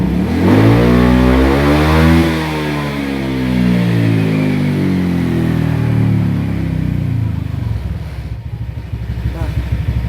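A Honda Vario 150 scooter with a remapped ECU revs hard at high RPM in neutral, a loud engine whine sweeping up and down in pitch, then settling into a rough, buzzing idle.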